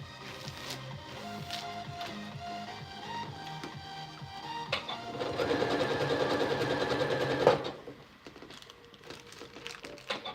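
A sewing machine stitches a back-and-forth repair stitch, a straight stitch mimicking a zigzag, while a clear vinyl storage bag is sewn from Dollar Tree materials. Irregular mechanical clatter gives way to a steady, busier whirring run of several seconds that then stops.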